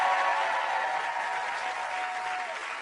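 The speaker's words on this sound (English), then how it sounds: "A big round of applause for the Wassermans," Studio audience applauding on a TV game show, a dense steady clatter of many hands at close range, fading slightly toward the end, with no voices over it.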